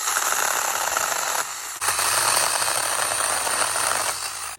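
A Tomyvic 6-inch cordless mini chainsaw cuts tree limbs with a loud, close, buzzing whir that dips briefly partway through and then resumes.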